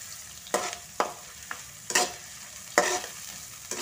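Ingredients sautéing in a pan for yellow rice and chicken sambal, with a low sizzle under repeated sharp scrapes and clacks of a spatula about every half second, close and clear with no speech.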